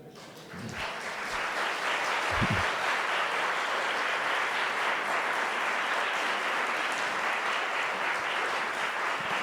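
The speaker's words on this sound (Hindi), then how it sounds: "ताली बजा" A poetry-evening audience claps together in a hall, a dense, sustained burst of applause that rises quickly and stays steady throughout.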